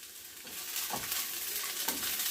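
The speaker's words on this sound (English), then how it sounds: "let the cashews also fry in it" Cashew nuts and onions frying in oil in a pan for a restaurant-style soya chunks curry, a steady soft sizzle with a couple of scraping stirs, no talking.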